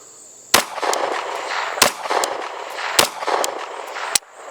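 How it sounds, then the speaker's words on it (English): Sig Sauer MK 25 pistol handled through a malfunction drill, with four sharp, loud metallic impacts from tapping and racking the slide, spaced about a second apart, each followed by a rattling tail of noise and no voices. "it was a very smooth tap and rack with the slide"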